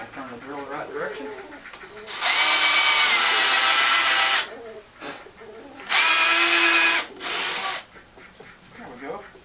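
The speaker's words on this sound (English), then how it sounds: "I'm going to turn the drill the right direction" A cordless power drill whines as it bores into wood for a homemade rabbit carrier cart, running in two steady bursts of a couple of seconds each, with a short blip after, and brief talk and bird sounds in the gaps.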